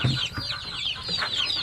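Native chickens cluck close by at a farm chicken coop, a busy overlapping chorus of short clucks and calls, no talk.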